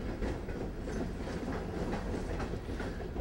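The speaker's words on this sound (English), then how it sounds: "I hope you can hear me over the train" A train rolls steadily past close by, a continuous loud rumble with rhythmic clickety-clack of wheels on rails filling the whole stretch, with no voices.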